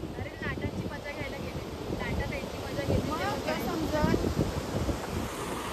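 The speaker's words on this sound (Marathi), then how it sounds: "भयानक केवढ्या मोठ्या लाटा येतात बघ ना" Large storm waves surge and roar along the Goa seashore in heavy monsoon rain, a continuous loud wash of surf and gusting wind buffeting the microphone, with a voice talking over it throughout.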